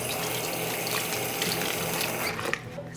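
Water pours from a tap or container onto an expanding compressed soil brick in a tray, a close, steady splashing and trickling that cuts off abruptly near the end.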